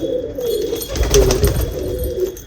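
Ferozpuri pigeons cooing in a loft, a steady run of soft, low coos that repeat and overlap close by, with a slightly stronger cluster near the middle.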